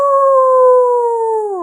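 A voice imitates a wolf howl, one loud, steady, sustained tone held close for under two seconds, sliding down at the end.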